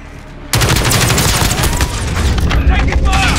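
Heavy, sustained gunfire in Call of Duty Modern Warfare at the Saint Petrograd headquarters, breaking in suddenly and staying loud and continuous, with booming impacts mixed in and voiced callouts over the din.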